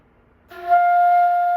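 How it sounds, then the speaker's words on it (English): After a quiet start, a flute sounds a high F. The sustained note rises into a clear, steady pitch and plays alone until the end. "We're trying to get that high F. So make that airstream cooler to press the note up."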